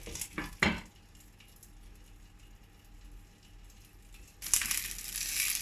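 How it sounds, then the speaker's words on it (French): Endives browning in a covered pan: a brief clatter and scrape of turning at the start, a quiet low sizzle through the middle, then a loud burst of crackling frying toward the end. "on va les faire colorer comme ça sur toutes les faces"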